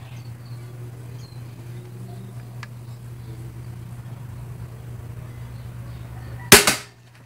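A crossbow fires once near the end as a sharp, loud snap with a quick fading rattle, after several seconds of quiet outdoor ambience with a low steady hum and faint insect buzz.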